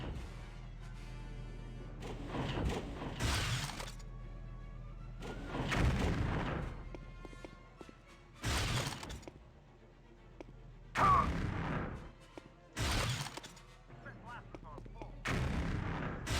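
Weapon fire in Star Wars Jedi Knight: Dark Forces 2 comes in separate heavy bursts, about six loud blasts spaced a second or two apart over a low droning background, with brief speech between.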